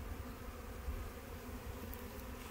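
Honeybees buzzing steadily around hive boxes being lifted and reversed during a spring hive inspection, a low continuous drone with no voices.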